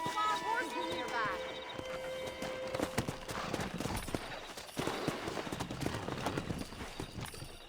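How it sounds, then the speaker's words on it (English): A herd of wild horses gallops in Red Dead Redemption on PS5, with a dense run of clip-clopping hooves and occasional whinnies rolling past close by, set among game ambience and character voices. "That ranch hand said there's a pack of wild horses nearby."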